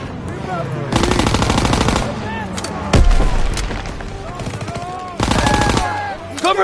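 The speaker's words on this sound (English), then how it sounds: "I need cover fire on the left." Bursts of rapid machine-gun fire and single shots ring out in Call of Duty WW2 combat, loud and close, with shouted battlefield voices calling out between the volleys.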